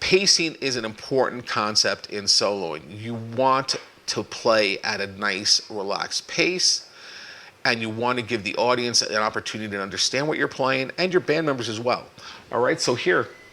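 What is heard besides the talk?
None of the usual background noises is heard.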